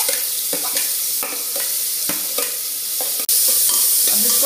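Chopped onion fries in hot oil for chole, a steady close sizzle broken by scraping stir strokes and a sharp clack near the end, with no talking.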